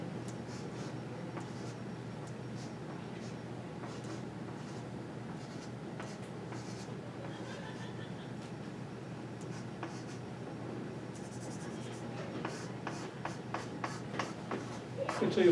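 Equations being written on a board during a physics lecture: faint, soft scratching strokes in quiet bursts, growing a little busier and louder toward the end.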